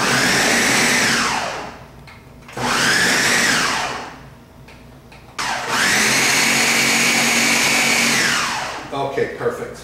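A food processor pulses slow-cooked pork in three loud whirring bursts, each motor spin winding up and easing down, with short pauses between and brief clattering at the end.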